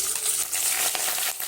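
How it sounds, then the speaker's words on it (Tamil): Mustard seeds spluttering in hot oil in a pan while tomato thokku is prepared, a continuous hiss with quick crackling pops over a short stretch, no talking. "கடுகு நல்லா பொரியட்டும்."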